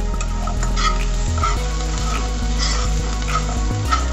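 Paneer fries in a pan with oil and sesame seeds for spicy masala paneer, making a loud, steady sizzle with crackling pops and repeated scraping of a spatula against the pan.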